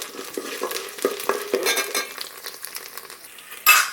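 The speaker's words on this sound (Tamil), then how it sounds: "நெய் ஹீட் ஏறினதுக்கப்புறம் நம்ம எடுத்து வச்சு இந்த ஜவ்வரிசி இதில் ஆட் பண்ணிக்கலாம்." Sago pearls fry in hot ghee in a pan, a soft crackling sizzle broken by repeated scraping stirs of a utensil against the metal, close up, ending with a sharper louder burst of sizzle.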